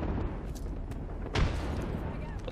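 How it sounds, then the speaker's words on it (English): A single deep grenade boom in Apex Legends lands mid-clip over a constant rumble of game noise and distant gunfire. "I'm going to toss in some grenades up there"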